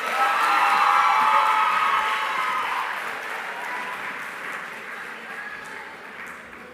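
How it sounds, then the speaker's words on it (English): A large audience at a Namibian annual sports awards ceremony applauds and cheers, sustained clapping with a few whoops, loudest at first and slowly fading over several seconds. "another round of applause for all the winners who have won so far"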